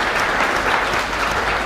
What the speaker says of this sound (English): Round of applause for Majid